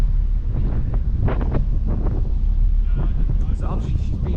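Wind buffets the microphone aboard the Mersey ferry Royal Iris on a breezy crossing, a constant low roar close to the mic with faint water and engine rumble beneath.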